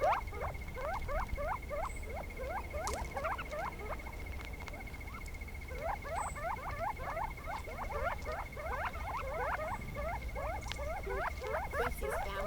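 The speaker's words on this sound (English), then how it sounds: "let's scan it and see if we can hear the covey of quail" A recording of a covey of quail plays, giving many quick, chirping calls in bursts that overlap and repeat over a faint steady hiss, fairly quiet, with no talking.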